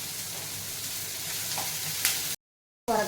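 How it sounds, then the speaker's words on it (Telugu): Onions and curry leaves frying in a pan give a steady, close sizzle with light crackles, then a brief silence and a short resumption. "సాల్ట్ వేసుకుంటే ఆనియన్స్ త్వరగా ఫ్రై అవుతుంది అనమాట"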